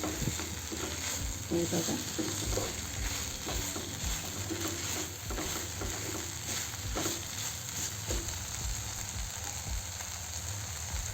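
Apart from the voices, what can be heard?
soybean bhurji being stirred and frying in pan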